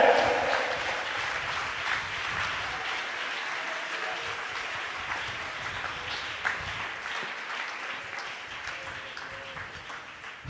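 A church congregation applauds at length during a sermon, dense continuous clapping that stays steady for the whole stretch, with voices and cheers mixed in beneath it.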